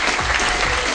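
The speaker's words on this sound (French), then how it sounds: "Nash, Eva, sur la piste de danse avec vos applaudissements" Studio audience on a French-language television entertainment show claps loudly for dancers taking the floor, a dense, close burst of applause.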